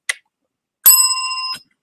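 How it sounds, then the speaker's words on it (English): A bell gives a short tap, then one bright, sustained ring lasting under a second, loud and close, with no other sound around it. "I get a bell."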